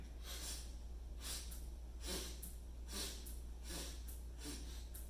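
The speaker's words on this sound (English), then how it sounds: "So we're now going to sniff it out again." Repeated breathing through the nose during a posture and stress-relief exercise, about five sharp sniffing inhales in a steady rhythm, close and fairly quiet over a low constant hum.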